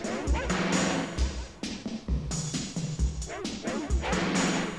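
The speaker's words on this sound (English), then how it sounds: "Is that a dog barking that they've kind of distorted?" A heavily distorted dog bark sits inside an industrial music track, as choppy, harsh bursts repeating over a dense, loud mix with thumping low beats.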